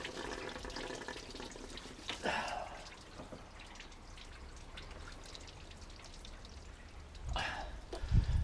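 Coolant drips and trickles from the lifted-off thermostat housing of a 2004 Vauxhall Vectra C, faint irregular patters with a couple of louder splashes near the end, heard close in a quiet workshop.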